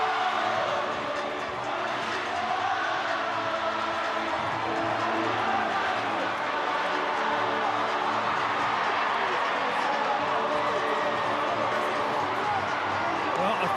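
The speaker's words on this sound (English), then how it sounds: "the crowd is just going off for all the reasons" A rugby league crowd at a Tonga versus Samoa World Cup 2017 match roars in a loud, sustained, dense wash of cheering and shouting that carries on without a break. Commentary voices talk over the din.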